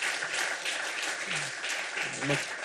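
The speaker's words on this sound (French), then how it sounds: "je crois qu'on peut l'applaudir." A seated audience at a French-language talk on environmental and corporate accounting breaks into steady applause, a dense even patter of many hands at moderate distance, with a few voices murmuring underneath.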